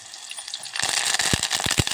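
Green chillies frying in a pan for tamarind chutney, a soft hiss swelling into a louder sizzle with a few sharp pops and crackles toward the end, no one speaking.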